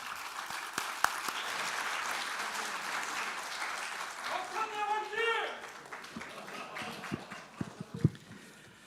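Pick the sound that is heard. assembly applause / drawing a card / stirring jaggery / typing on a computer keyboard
assembly applause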